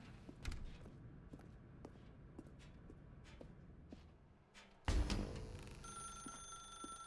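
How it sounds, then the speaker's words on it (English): A telephone rings in The Stanley Parable video game, a faint bell-like ring in a quiet room with footsteps, followed by a louder clatter and a sustained tonal ring near the end. "Pick up the phone and it will"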